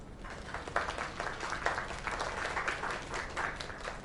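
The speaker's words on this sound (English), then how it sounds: "Another round of applause." An audience claps steadily after a singer's stage performance, a dense wash of applause held at a moderate, even level throughout.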